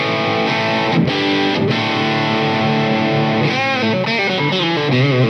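A Squier 60's Custom Esquire electric guitar played through its bridge pickup with heavy distortion, loud sustained chords and riffing that screams, with some choppy rhythmic strums, alone and close.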